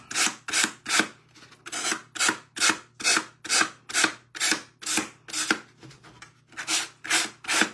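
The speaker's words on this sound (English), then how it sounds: "We're going to sand this right off" Rhythmic rasping strokes of a sanding block scraping over glass, about a dozen even back-and-forth passes, close and loud.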